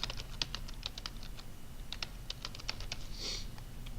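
Typing on a computer keyboard while setting type on a path in Adobe Illustrator: a steady run of close, light key clicks with irregular rhythm over faint room hum, no talking.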